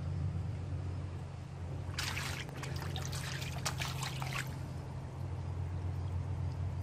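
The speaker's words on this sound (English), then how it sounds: "you're going to see all the water" Water trickles and splashes across a boat deck where pooled water runs toward one side, a brief burst of dribbling lasting a couple of seconds over steady low engine or hull hum.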